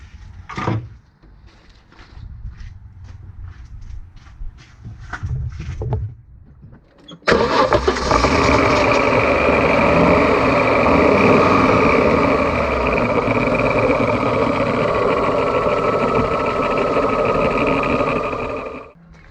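An Audi Coupe, just repaired after a brake servo fault, cranks with a series of rapid starter clicks and whirs, then catches and settles into a loud, steady idle that runs close by for about twelve seconds.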